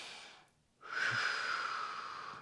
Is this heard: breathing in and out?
yes